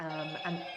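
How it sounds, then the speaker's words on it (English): A phone rings faintly in the background with a repeating electronic ringtone warble, low in level beneath a voice speaking. "that's my phone going off in the background"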